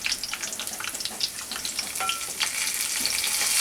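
Two bay leaves, a dried red chilli and whole cumin sizzle in hot oil in a pan, a steady close crackling hiss that swells slightly toward the end, with occasional faint stirring.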